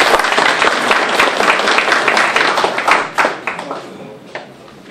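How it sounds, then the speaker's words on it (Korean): A crowd applauds at a party-joining ceremony for a professor entering the Saenuri Party, dense clapping that stays strong and then tapers off toward the end, with some voices mixed in. "여러분 박수로 환영해 주시기 바랍니다."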